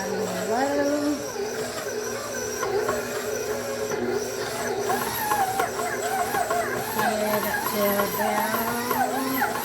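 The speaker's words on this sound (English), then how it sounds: "I've got everything in my mixer. I'm going to just stir it out on low." A stand mixer with a dough hook kneads pasta dough on low speed, a steady close motor whine with rhythmic rising and falling pitch as the hook drags through the dough, while a person talks over it.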